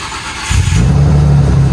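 The engine of a Nissan Skyline R34 turns over and settles into a loud, close, steady low rumble that holds after a short quiet lead-in, with no voices.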